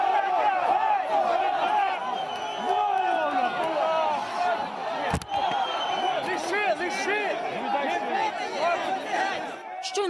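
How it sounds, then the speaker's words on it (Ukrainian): A 20,000-strong crowd storming the Ivano-Frankivsk regional administration building makes a dense, continuous hubbub of many voices, shouts and scuffling, with a single sharp bang partway through. "Івано-Франківську облдержадміністрацію штурмує 20-тисячний натовп."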